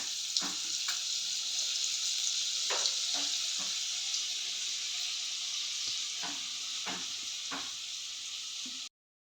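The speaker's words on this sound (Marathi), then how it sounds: "जिरं टाकून घेतलंय आता कांदा टाकूया" Cumin seeds fry in oil and butter in a hot kadhai while pav bhaji is being made, giving a steady close hiss of sizzling. A few soft stirring knocks break through the sizzle, which cuts off abruptly at the end, with no talking.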